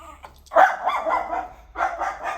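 A dog barks a couple of times nearby, sharp yips with a short pause between them.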